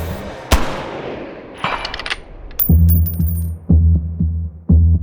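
A precision rifle fires one loud, sharp shot early on, followed by metallic clinks and a run of repeated ringing impacts spaced about a second apart, with no talking.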